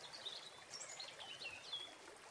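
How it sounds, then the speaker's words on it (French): A forest stream flowing steadily behind a seated listener while birds sing softly with high chirps and short calls, all quiet and continuous with no talking. "Nous entendons toujours assez fortement le ruisseau derrière nous, les oiseaux tout doucement chanter."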